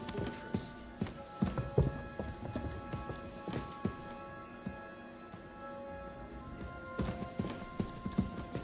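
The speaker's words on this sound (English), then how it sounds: "Something up with the horses" Horse hooves clip-clop in Kingdom Come: Deliverance 2, an irregular run of close hoofbeats over a steady game ambience, busiest at the start and end.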